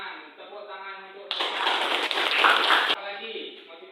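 Classroom clapping bursts out for about a second and a half, a dense, fairly loud patter of many hands, with speaking voices before and after.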